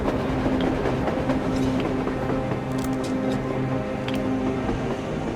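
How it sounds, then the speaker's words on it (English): A train passes on the surface in the video game Metro Exodus, its steady rumble and rhythmic rail clatter rolling on continuously and fairly loud, with a few sharp metallic squeals. "A damn train on the surface!"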